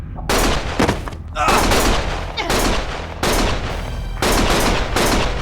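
Heavy gunfire in the Lost Judgment action game: loud, dense, continuous volleys of overlapping shots in repeated surges, close and intense throughout.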